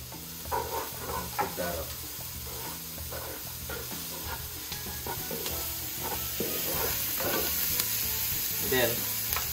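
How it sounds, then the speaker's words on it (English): Onion, carrots and scallions sizzle loudly in a frying pan, with steady frying hiss and repeated scraping stirs close by. "All right, so my onion is cooked. I'm gonna throw in the carrots."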